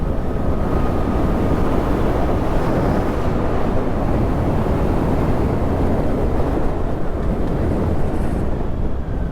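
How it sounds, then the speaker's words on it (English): Constant roaring wind buffets a rider on a Suzuki GSX-8S motorcycle without a screen, a heavy, unbroken low rumble that stays loud and steady throughout. "I'm getting hit with a lot of"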